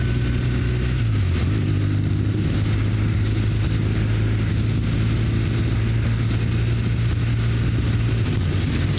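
Heard from a moving BMW R18 motorcycle on a ring road, a dense wash of car traffic blends with the bike's steady, loud low engine drone and buffeting wind noise throughout.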